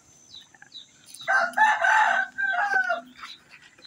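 A rooster crows loud and close, one long cock-a-doodle-doo rising and trailing off, with brief clucks from other fowl just before.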